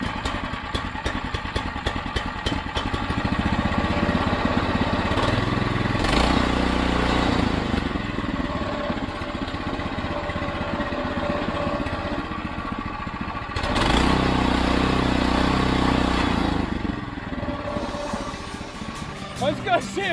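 A gas-converted EZGO golf cart engine runs steadily after a pull start, a loud mid-pitched putter with a couple of revving surges, while people talk nearby.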